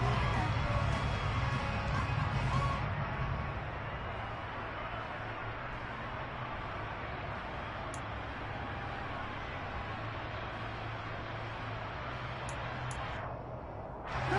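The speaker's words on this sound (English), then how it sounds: "The crowd getting into it as we come up on a big 3rd down." A stadium crowd in the Madden 23 football video game roars steadily ahead of a big third down, a dense wash of cheering noise that holds constant throughout and swells slightly at the start.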